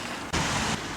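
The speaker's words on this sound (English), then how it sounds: "It is raining, it is not very pleasant at all." Rain falls steadily on a street in a constant hiss, briefly swelling louder in the middle before easing back, heard close with no voices.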